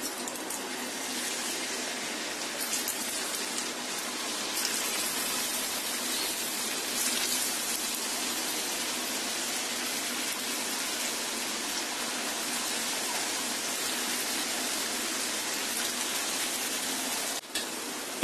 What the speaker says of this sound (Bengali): এখন আমি এই গরম তেলের মধ্যে আলুগুলি এক এক করে দিয়ে দিব।